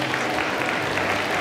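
An audience at the Animasia 2024 convention applauds models after a Lolita fashion show, a brief dense patter of clapping hands that fills the moment steadily.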